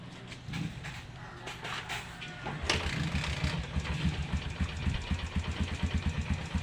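A Bajaj CT100 motorcycle engine starts with a sharp catch, then settles into a steady, rapid idle putter, close and fairly quiet, with no talking.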